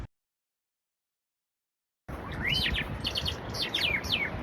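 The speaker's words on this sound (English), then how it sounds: "There's a blackbird." A blackbird sings in Lima, Peru, a bright phrase of fluting, whistled notes over a steady outdoor background hum, starting after about two seconds of silence, with no talk.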